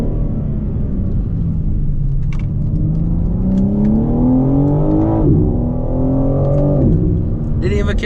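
A 2022 BMW M4 Competition xDrive floored out of a corner, engine note climbing steadily in pitch under full throttle with a brief shift dip, loud and close from inside the cabin.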